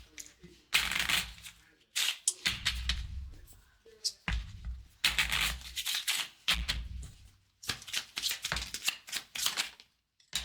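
Tarot cards being shuffled by hand for an advice card, heard as repeated close riffling and rustling bursts with short gaps, fairly quiet, without speech over them.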